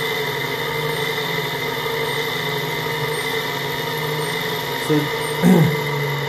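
An AC motor with an encoder runs at about 800 RPM, giving a loud, steady hum with layered tonal whine, and a brief word is spoken near the end.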